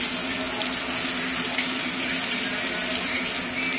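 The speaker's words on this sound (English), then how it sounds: "Make sure you wash your hands." Tap water runs steadily into a kitchen sink during hand washing, a continuous close hiss and splash with no talk over it.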